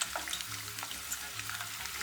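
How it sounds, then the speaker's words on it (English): Garlic frying in a pan for salsa macha gives off a steady, close crackling sizzle with a low hum underneath, continuous throughout and with no talking. "we're going to fry it up until it gives you like a golden brown color."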